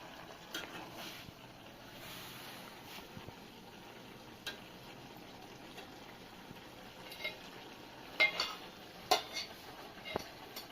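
Cabbage curry gets stirred and mixed in a pan, with a faint sizzle beneath scattered scraping and clinking of a spoon against metal that sharpens into louder knocks toward the end.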